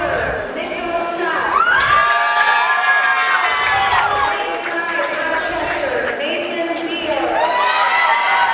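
A crowd at a boys' high school swimming sectional final cheers and shouts loudly and continuously, with high-pitched yells and whoops rising and falling throughout.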